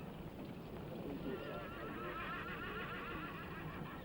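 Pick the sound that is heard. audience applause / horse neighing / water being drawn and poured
horse neighing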